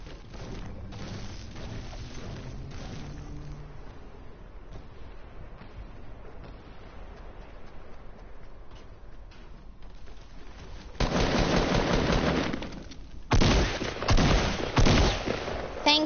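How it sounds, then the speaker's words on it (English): Video game gunfire crackles through the match: quieter distant shots in the first stretch, then loud bursts of rapid fire near the end. "Getting shot at?"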